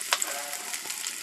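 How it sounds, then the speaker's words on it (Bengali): Chicken frying in a pan, a steady close sizzle with crackling pops and a brief stirring scrape, no voices. "এই চিকেনটা ভাজতে ভাজতে ভাজা হয়ে যাবে"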